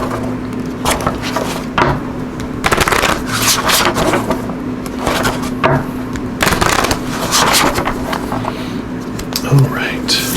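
A deck of Spirit of the Animal Oracle cards shuffled by hand during a tarot-style reading, giving repeated close bursts of papery riffling and scraping against a steady background hum.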